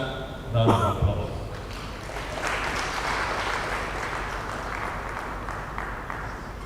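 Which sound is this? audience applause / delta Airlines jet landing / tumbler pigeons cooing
audience applause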